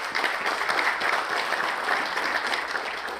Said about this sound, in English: I think another thunderous round of applause.